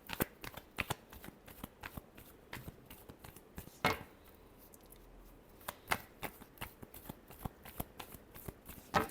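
A deck of tarot cards is shuffled in repeated quick riffles and taps, crisp papery bursts close to the listener in an uneven rhythm, with no voices.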